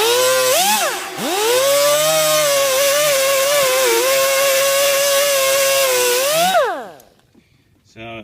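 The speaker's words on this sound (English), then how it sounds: "These wire wheels are great, but these bristles do come off" A power-driven wire wheel brushes a chrome oil pan, giving a loud, close, sustained whine that spins up, holds for several seconds with slight pitch wobbles, then winds down into near silence before a brief final noise.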